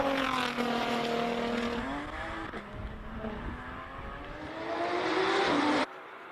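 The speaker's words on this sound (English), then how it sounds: "On screen now you have Eric Farkel in another GT3 RS 2016. Takes his very first run up." A 2016 Porsche GT3 RS race car starting a hillclimb run, its engine revving through several rising gear pulls, loud and near, then cutting off abruptly.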